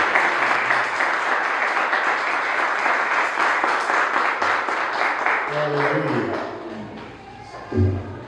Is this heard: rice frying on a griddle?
no